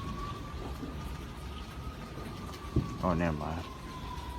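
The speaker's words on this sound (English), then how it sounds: "I hear a goddamn fire truck." Faint fire truck siren holds a long, steady wail in the distance during a heavy July thunderstorm, under a bed of hissing rain, with a short burst of someone talking nearby.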